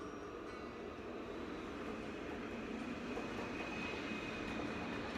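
A train passes near a home in Issy-les-Moulineaux, a continuous, even rumble and roar that holds steady and fairly loud throughout, with no voices.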